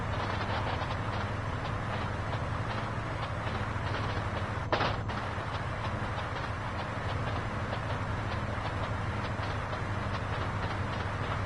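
A train rumbles past in GTA San Andreas, a steady low clatter and hum running throughout, fairly quiet, with one brief sharp click partway through.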